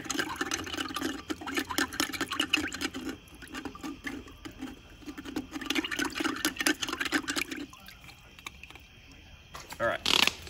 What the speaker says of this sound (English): I'm gonna dunk it in some water